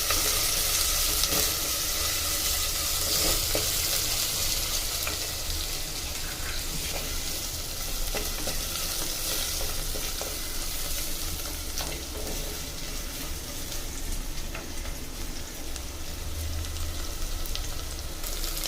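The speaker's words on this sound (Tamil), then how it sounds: "வெங்காயம் நல்லா வதங்கிடுச்சு" Onions with a pinch of salt sauté in a pan for a village-style fish curry, giving a steady, dense hiss of frying with faint scattered stirring clicks, close and continuous throughout.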